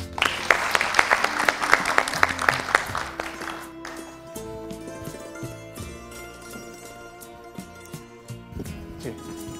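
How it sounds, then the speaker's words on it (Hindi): Studio audience applause greets a guest on a Hindi talk show about addiction, dense clapping for the first few seconds, then fading under a music sting with tonal chords. "जोरदार तालियों के साथ"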